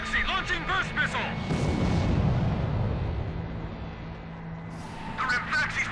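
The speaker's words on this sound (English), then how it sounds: "Rimfaxi launching burst missile!" Burst missile fire from the submarine Rimfaxi in the Ace Combat 5 game sets off a heavy rumbling blast that swells and fades, with voice chatter before and after it.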